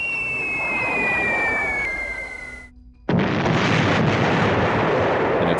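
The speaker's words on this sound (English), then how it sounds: "The B-17 groups salvo their bombs" Loud bomb salvo from B-17 bombers: a droning aircraft tone cuts out, then a sudden heavy explosive blast erupts into sustained roaring rumble for several seconds, with no talking.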